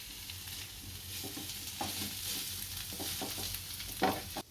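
Vegetables with chillies, carrots and cabbage sautéing in a pan, soft sizzling with a few scrapes and stirring knocks of a spoon, quiet and close.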